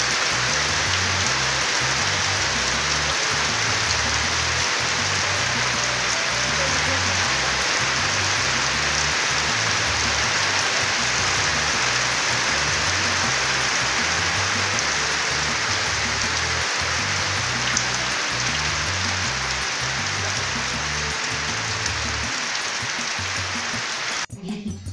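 Heavy rain pours down steadily, a dense continuous hiss of drops drumming on surfaces, loud and unbroken, ending abruptly.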